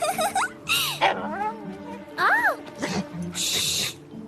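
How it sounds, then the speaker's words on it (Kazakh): A small puppy whimpers and yips in short, high, wavering whines, several thin cries rising and falling close by, separated by brief pauses. "Ой, кішкентай күшік."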